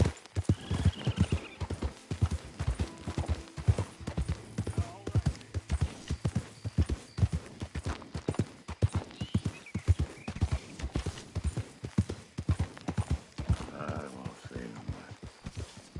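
Horse hooves galloping steadily in Red Dead Redemption 2, a fast, continuous clip-clop rhythm close by throughout, with occasional whinnies and a voice speaking briefly over it.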